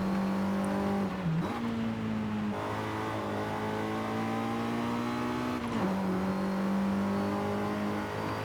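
A car engine in the racing game Forza Horizon 5 drones at high revs, holding a steady pitch with a couple of quick dips at gear shifts, loud and continuous with no talking.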